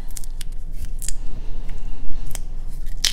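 Brightly colored duct tape is pulled off the roll to seal plastic milk-jug planters for winter sowing perennials, giving a series of short, close ripping and crackling bursts alone.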